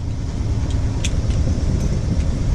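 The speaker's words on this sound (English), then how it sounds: "Engine's running so far." Sailboat engine running steadily while motoring out of Ensenada Bay, Mexico: a continuous low rumble with broadband wind and water noise, no talk.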